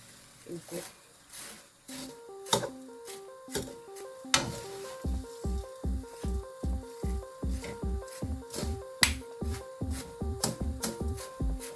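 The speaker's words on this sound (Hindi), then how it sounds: "इनको मैंने अच्छी तरह से भूनना है, इसी तरह से 2 चम्मचों की मदद से" Vermicelli roasts in a kadai as two spoons toss it, making steady rhythmic rustling scrapes and dry patter that repeat throughout, under someone talking.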